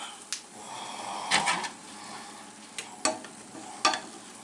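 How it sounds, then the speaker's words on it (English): Chile rellenos fry in hot grease as a spoon bastes the tops. A soft sizzling hiss runs throughout, and a few sharp spoon clinks and scrapes stand out close by. "I'll grab a spoon and kind of start cooking the top layer by putting hot grease on it."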